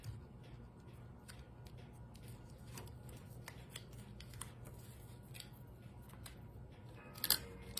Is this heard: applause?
no